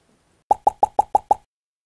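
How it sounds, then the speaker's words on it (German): A bottle of elderflower lemonade is opened, giving six quick, evenly spaced popping plops up close, with silence before and after. "öffne dir jetzt sehr gern diese Flasche"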